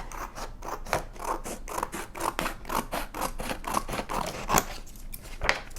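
Scissors snipping through a cardboard box along marked lines, a close, rhythmic series of crisp cuts and scraping strokes repeating steadily.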